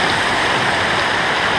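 Deep trail-crossing stream rushing steadily, a close, full broadband wash of flowing water with no break and no voices.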